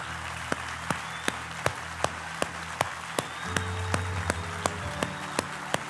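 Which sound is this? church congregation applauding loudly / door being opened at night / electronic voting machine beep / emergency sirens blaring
church congregation applauding loudly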